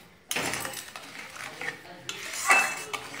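A spoon stirs sweet tomato chutney with melting sugar in a metal pan, making close, crisp scrapes and clinks in irregular strokes, and someone speaks lightly beneath the sound.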